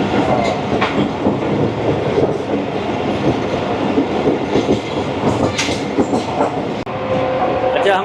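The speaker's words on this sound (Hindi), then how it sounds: "लांडी स्टेशन तेज़ रफ्तारी से क्रॉस करते हुए" The 15UP Karachi Express train speeds through Landhi station with a loud, continuous rumble and rhythmic clickety-clack of wheels on rail joints, heard from inside a coach.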